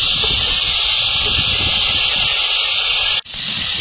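Mango pieces hit hot mustard oil already crackling with halved dried red chillies and five-spice tempering for a shol fish curry, giving a loud, steady, close sizzle that cuts off abruptly near the end.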